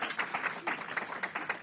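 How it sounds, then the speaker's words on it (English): An audience claps at the launch of a school meal programs report, a brief run of moderate, evenly paced applause lasting under two seconds. "a round of applause"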